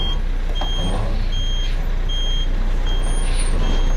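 Loud idling truck engine drones under a regular run of reversing beeps, about five evenly timed tones as the vehicle backs up nearby.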